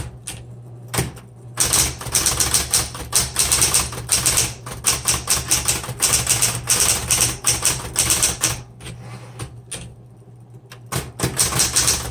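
Rapid clattering keystrokes from a 1970s Smith Corona Electra 120 electric typewriter, close and loud, with bursts of typing broken by short pauses and a steady low electric motor hum running beneath throughout.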